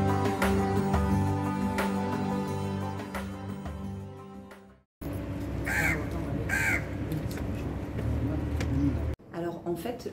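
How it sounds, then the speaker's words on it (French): A crow caws a few times overhead above a room in Egypt, heard against a dense background of noise, with a short gap partway through and no speech. "le corbeau que vous avez vu juste avant là, qui était au-dessus de la chambre"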